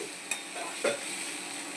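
Buttermilk mixed with fried gram flour is poured into a cooking pan, giving a soft hiss over a quiet background with a brief tap near the start and a short splash in the middle.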